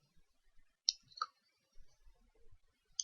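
Mouse clicks while closing a window on a computer: a few crisp, isolated clicks in near silence, with a pair close together early and one more at the very end.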